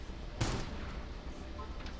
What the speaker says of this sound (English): Gunshots echoed from Yao's end.